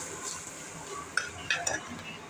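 Masala with turmeric and garam masala being stirred in a pan, soft sizzling under a few sharp scrapes and clinks of a spoon against metal, close and fairly quiet.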